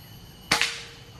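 A single sharp, close gunshot rings out while hunting a large red junglefowl, with a quick echoing crack right after and a low outdoor background before and after.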